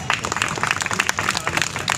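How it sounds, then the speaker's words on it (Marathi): An audience at an eco-friendly club workshop in Solapur claps to welcome a municipal garden superintendent, a lively mix of many hands beating in uneven rhythm, close and sustained. "त्यांचंही आपण स्वागत करावं टाळ्या वाजवून।"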